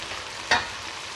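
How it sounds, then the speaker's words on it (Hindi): A tablespoon of whole cumin seeds hitting hot oil with one sudden sharp sizzle that quickly fades into a soft, low frying hiss, close and fairly quiet. "ये 1 टेबल स्पून में साबुत जीरा डाल रही हूँ"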